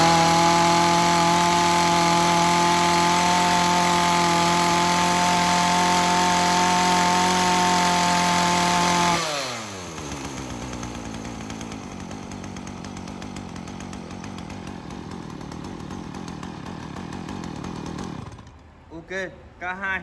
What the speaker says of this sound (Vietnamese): có thể sử dụng cái dòng máy cưa này